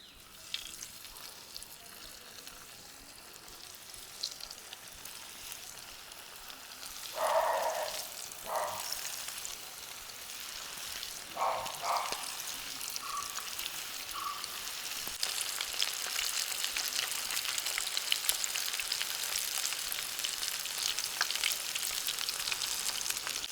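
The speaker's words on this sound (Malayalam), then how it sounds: "നമ്മുടെ ചിക്കൻ അങ്ങോട്ട് ഇട്ട് കൊടുക്കാം കേട്ടോ." Chicken pieces go into hot coconut oil for a crispy Kerala-style chicken fry. A low sizzle with a few clattering bursts grows into a louder, dense frying hiss that fills the second half, with no talking.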